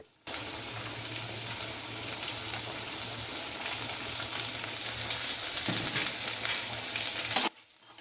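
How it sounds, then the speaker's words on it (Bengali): Chopped beans drop into a hot frying pan of fried rice. A loud, steady sizzle starts abruptly, runs close and even for several seconds, then cuts off sharply. "এবার দিয়ে দেব কুচিয়ে রাখা বিমস"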